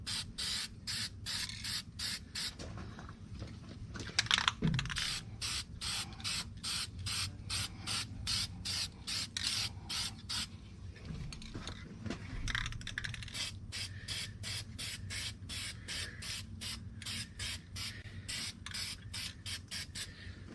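Quick, regular bursts of aerosol spray paint hiss up close onto the exhaust of a 2007 Freightliner Columbia truck where the clamps will sit, with a brief clatter partway through.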